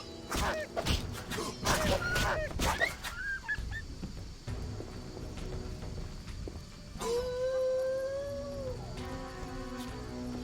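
Dogs in The Witcher video game bark and yelp in quick bursts, then let out a long, rising howl, loud and close with game ambience beneath.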